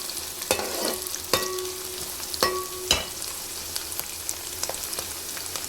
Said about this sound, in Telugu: ఇంకా ఆనియన్స్ అయితే మంచిగా వేపుకోవాలి,